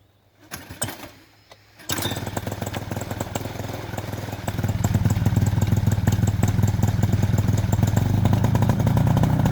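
A small aircraft engine starts and settles into a steady, loud, rattling idle before flight, the drone growing fuller partway through and continuing unbroken to the end.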